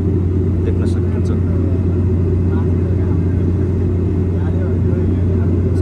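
Steady airliner cabin drone from the engines in flight above the clouds on a Kathmandu to Dhangadi trip, a loud continuous low rumble with no breaks, a few faint higher tones flickering over it.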